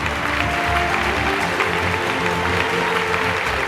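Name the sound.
audience applause for the fashion designer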